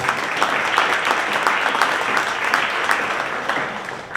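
Applause at a county property tax discussion salutes an anti-property-tax campaigner, a steady wash of many hands clapping from a modest crowd, sustained and even before tapering at the end.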